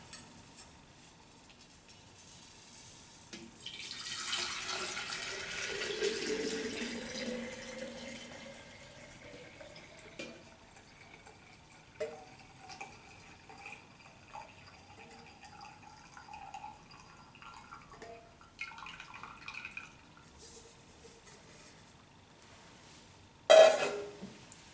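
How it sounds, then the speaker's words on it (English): Sea salt solution with a few undissolved bits is poured from a container into a jar, a soft liquid pour and trickle that swells early and then thins into scattered drips and clinks, ending with a sharp knock. "I'm going to tip it into the jar."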